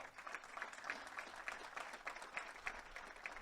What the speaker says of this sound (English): Jerry and Brenda Copeland, give them a round of applause.